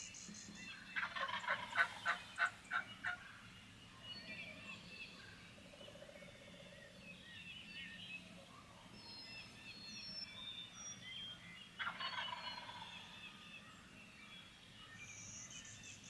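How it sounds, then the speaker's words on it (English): Wild turkey gobblers gobble in the distance during a spring turkey hunt: one rattling gobble early, then another after a long quiet stretch, faint over soft woodland ambience and birdsong. "We had one gobbling."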